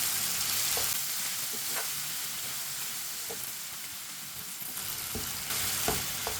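Okra tossed into masala in a hot pan sizzles with a constant loud hiss, punctuated by several distinct scrapes and knocks of the spoon as it is stirred through.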